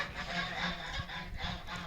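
A gander in a farmyard gives a few quiet, raspy honking calls in quick succession, close by and fairly faint.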